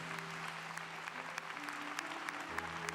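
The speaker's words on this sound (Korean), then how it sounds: "성가대와 김영일 권사님께 감사의 박수로 축복해 주시겠습니다." A church congregation applauds the choir at a revival service, steady crowd clapping that is moderately distant, with faint hum tones sustained underneath.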